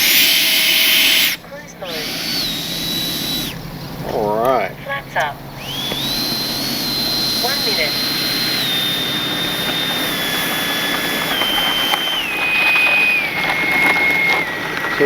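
FMS 70mm Yak 130 RC jet's ducted fan whines high and steady as it flies past, the pitch sliding slowly downward, with brief wind buffets near the start and a faint voice.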